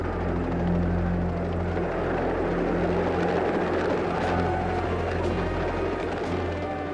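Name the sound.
helicopters over prison yard during the riot assault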